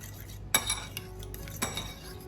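Pancake batter ingredients are mixed together in a bowl for healthy pancakes: a utensil knocks and scrapes against the bowl in a few quick clinks and one louder tap, close and fairly quiet, with no talking.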